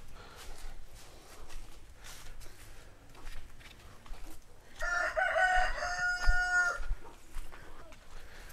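Chickens on a farm, with a rooster giving one loud crow in the middle and faint clucking scattered around it, heard close.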